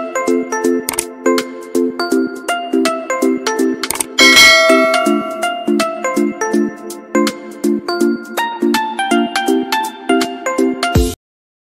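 Bright electronic notification-bell dings in a quick repeating pattern, loud and clean with no voices, interrupted midway by a short crash-like clang, then cutting off abruptly.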